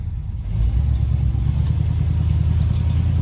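A 1966 Pontiac Bonneville's engine drones steadily from inside the car as it drives, a low continuous rumble that rises slightly after the first half second, with faint jingling on top.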